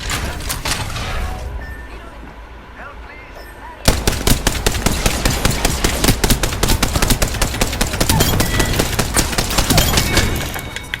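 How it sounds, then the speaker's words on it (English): Rapid automatic gunfire in the Apex Legends video game, a dense burst of loud, close shots starting abruptly after a quieter stretch and continuing almost without pause to the end. "You can't just keep firing this thing."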